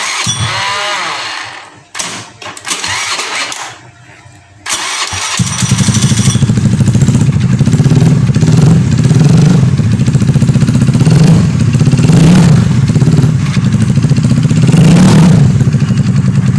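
A motorcycle engine tries to start with a few stuttering turns, then catches and runs on at a loud, steady, close idle with small pulses in the revs, and no talking.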